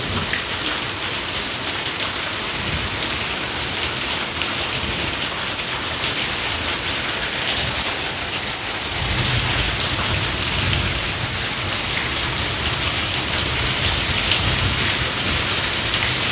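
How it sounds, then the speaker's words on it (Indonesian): Heavy rain pours steadily in front of a house, a dense continuous hiss of drops hitting surfaces that grows slightly heavier partway through, with no voices. "Hujan lebat turun."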